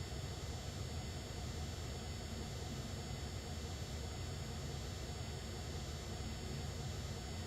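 In a flight simulator game, a Citation X jet taxis with a faint, steady engine whine and low hum that runs unbroken throughout, with no voices.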